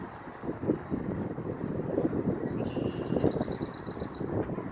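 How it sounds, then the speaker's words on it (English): A distant airplane drones overhead, a low rumbling roar mixed with wind noise, steady and fairly faint. "Listen to the plane. You hear it?"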